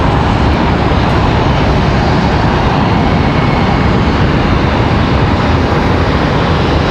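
Boeing 777 jet aircraft at Charlotte airport produce a loud, unbroken broadband engine roar, steady and close, with no voices over it.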